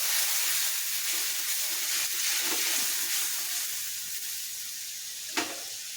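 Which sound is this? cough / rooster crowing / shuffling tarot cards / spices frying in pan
spices frying in pan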